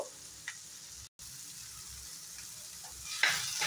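Potatoes and soya chunks fry in a pan with a steady, close hiss of sizzling oil, briefly cut off for a moment, then swelling louder toward the end as the food is stirred.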